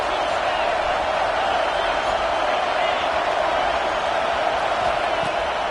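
Football stadium crowd during a Washington vs Oregon game roars in a steady, loud, unbroken wash of cheering and noise, sustained for the whole stretch without a break.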